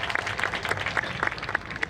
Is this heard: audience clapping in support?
yes